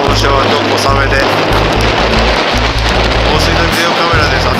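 Light rain falls at a surf spot under strong onshore wind, a loud, continuous roar of wind buffeting and rain hiss, with heavy low rumble throughout and a person speaking faintly beneath it.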